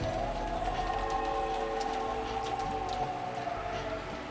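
Steady rain sound effect from the Umineko When They Cry visual novel, a continuous hiss of falling rain and wind with a low droning rumble underneath, even and unbroken throughout.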